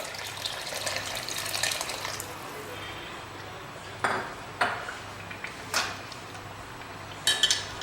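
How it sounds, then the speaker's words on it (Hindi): Water poured into mutton curry gravy (Mewari laal maas, Udaipur style) in a cooking pot makes a steady splashing rush, then a few short metallic clinks and knocks from the pot and utensils. "लगभग 2 गिलास पानी मैंने डाला है।"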